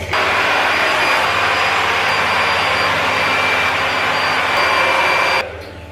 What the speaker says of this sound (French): je viens prendre un sèche-cheveux avec un diffuseur comme ça.